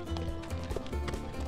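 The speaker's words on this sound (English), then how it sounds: "said Piper, as Spark neighed in agreement and galloped down the same path they had taken earlier that day." Galloping horse as a storybook sound effect, with rapid rhythmic clip-clop hoofbeats that are loud and steady throughout.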